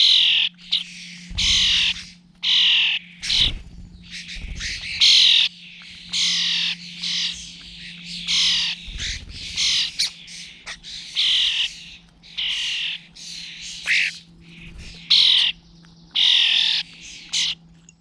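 Starling chicks in an English garden give rapid, loud bursts of harsh begging calls while adults feed them, the squawks repeating in close, irregular clusters over a low steady hum.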